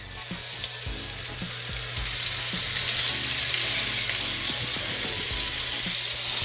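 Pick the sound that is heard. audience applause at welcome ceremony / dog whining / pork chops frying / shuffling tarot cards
pork chops frying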